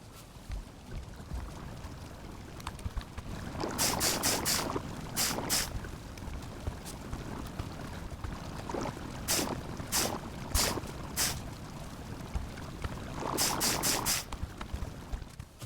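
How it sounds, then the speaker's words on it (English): A boat sailing on water in the video game Valheim, with a steady wash of water and wind and bursts of louder splashing and creaking, and no talking. "we're going to do some sailing"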